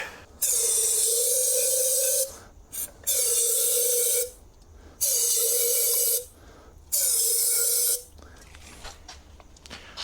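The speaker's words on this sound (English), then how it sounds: "Just some good old braking parts cleaner." Brake parts cleaner sprayed from an aerosol can onto the brakes of a Mitsubishi Lancer CE, four loud steady hissing bursts of about two seconds each with short gaps between, close by, then quieter handling noises.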